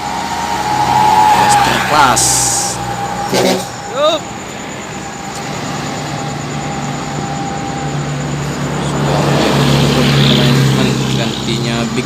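A Putra Pelangi tronton bus drives in convoy with other buses, its engine rumbling steadily with a loud pass and horn-like tones, while someone talks over the traffic noise.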